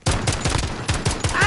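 Rapid bursts of automatic gunfire with tracer rounds in a PlayStation shooter, loud and close, a dense rattling volley running almost unbroken for the whole moment.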